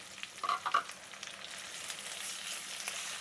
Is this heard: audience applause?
no